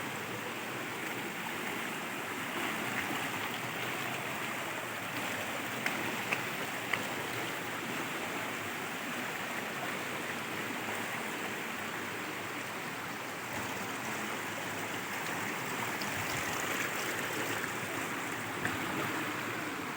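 A waterfall in a rural Quezon property gives off a steady, dense rushing roar that holds unbroken and even throughout, with no voices heard.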